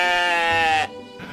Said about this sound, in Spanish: La oveja bala.